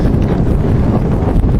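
Steady, loud wind buffets the microphone in an exposed outdoor spot near a wood-burning stove chimney, with a continuous low rumbling roar and no talk.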